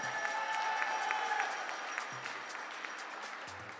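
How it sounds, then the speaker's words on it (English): Audience applause for a shooter at the 2018 European 10m air rifle junior women's championships in Győr, Hungary, moderate steady clapping in a hall that fades slightly, with faint voices underneath. "round of applause for Stephanie Gunsor"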